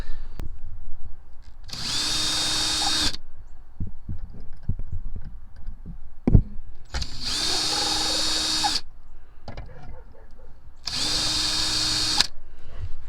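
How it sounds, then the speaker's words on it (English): A power drill backs out the screws holding an armrest, with three loud bursts of whirring, each lasting over a second, separated by quieter clicks and handling noises. "I'm going to use my drill."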